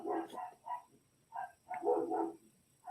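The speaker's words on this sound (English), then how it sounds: "Excuse my dogs, they're barking at the neighbors." Dogs barking at neighbors indoors while someone beads a peyote-stitch hoop earring: a series of short, fairly close barks in irregular bursts with brief pauses, no talk.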